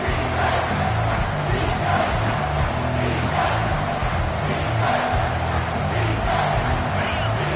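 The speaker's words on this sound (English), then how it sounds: "This crowd is trying to inspire this defense to make a big red zone stop." A large American football stadium crowd roars steadily during a red zone defensive stand, a dense wall of cheering and yelling that stays loud and constant throughout.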